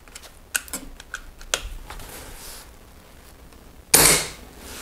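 An air gun fires a diabolo pellet into ballistic gelatine with a single sharp, loud crack after a few faint clicks and handling taps, the report decaying quickly into quiet.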